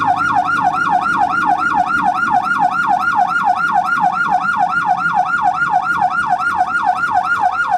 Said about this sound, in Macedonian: Со посебни протоколи и целосна опрема за заштита, амбулантното возило тргна во акција.